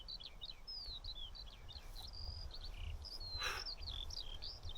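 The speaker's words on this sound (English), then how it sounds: "the birds are singing. They sound lovely." Birds sing and chirp steadily in the distance on a summer night in the Lake District fells, with bright repeated whistled phrases over a low, constant outdoor rumble.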